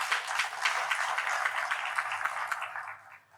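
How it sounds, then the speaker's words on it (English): An audience applauds at a fire station opening ceremony, a steady wash of many hands clapping that fades out toward the end. "I'd like us to give all the role players an applause"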